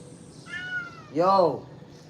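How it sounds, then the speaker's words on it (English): A house cat meows twice indoors, a shorter call followed by a louder, drawn-out meow, close to the microphone with no one talking. "you see this cat, man?"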